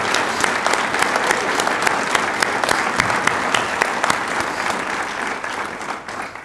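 Audience applause at an Army brigadier general's promotion ceremony: steady, crisp clapping from a sizeable crowd, with sharp individual claps standing out and the sound tapering slightly near the end.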